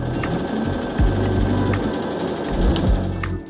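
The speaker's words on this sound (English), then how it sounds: "again just using our sewing machine" A sewing machine stitches the side seams of a summer top in steady mechanical bursts, close and loud, pausing briefly between runs with no talking.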